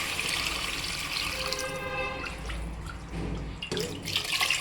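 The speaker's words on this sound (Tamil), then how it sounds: "இந்த தண்ணியை நம்ம ஊற்றிக்கலாம்." Mutton cooking water pouring into a pan of sautéed mutton curry base, a steady close splashing trickle with a dripping tail, no voices over it.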